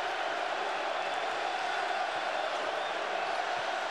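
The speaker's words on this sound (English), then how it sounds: "Crowd on their feet looking for some defense." A college basketball arena crowd, Arizona against UNLV, roars steadily as fans stand urging on the defense, a dense, continuous wash of voices with no break.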